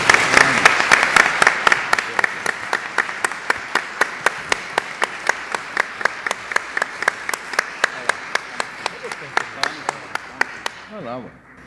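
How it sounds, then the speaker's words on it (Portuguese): An audience at an arbitration law panel claps for a professor in a steady, synchronized rhythm of about three beats per second. The clapping is fairly loud and close, holds for around eleven seconds, then stops as a voice begins. "Uma salva de palmas para o professor Dinamarco."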